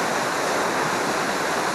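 Steady broadband rushing of a flowing river, close and continuous, with no other sounds breaking through.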